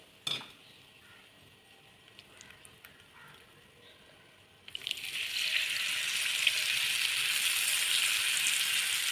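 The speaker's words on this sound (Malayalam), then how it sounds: "ഇതിലോട്ട് നമുക്ക് പുളി ഒഴിച്ചു കൊടുക്കാം" Tamarind water poured into a pan of ginger curry, starting as a steady rush of liquid at about the midpoint and continuing to the end after a quiet stretch with a few small clinks.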